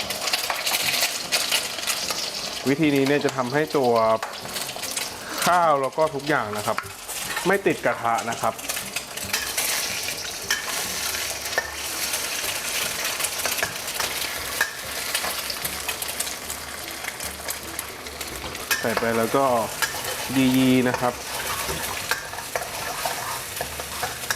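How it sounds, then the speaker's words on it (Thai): Chicken eggs sizzle and crackle steadily in hot oil in a wok, with a utensil scraping and stirring around the pan. "พอกระทะเริ่มร้อนนะครับ ผมจะใส่ ไข่ไก่นะครับ ลงไปก่อนเป็นอย่างแรกนะครับ"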